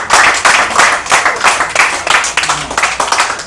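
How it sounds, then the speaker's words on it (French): Church congregation clapping hands together in a quick, rhythmic beat, loud and close, with brief shouts mixed into the steady clapping. "Quelque chose pour applaudir à Dieu."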